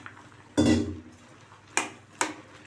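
A spoon scrapes and knocks inside a pot while bottle gourd is stirred into cooked lentils for a village-style kootu. One solid clunk is followed by two sharper taps, close and clear, with quiet pauses between.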